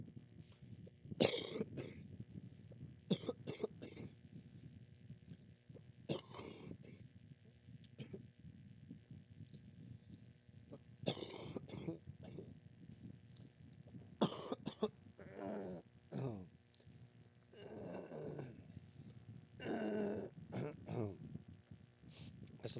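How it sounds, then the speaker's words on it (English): Repeated harsh throat clearing and coughing in short bursts, close to the microphone, with pauses between episodes and no talking. "It's like 1 minute of clearing my throat"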